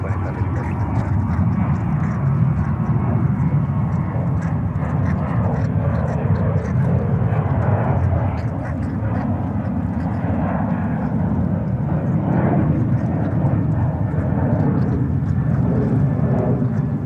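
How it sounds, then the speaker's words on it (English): A British Airways Boeing 777-300 from London Heathrow arrives at JFK, its jet engines making a steady, loud, broad roar that holds for the whole stretch with no break. "there we have a BA coming in. 173 777-300 from London Heathrow"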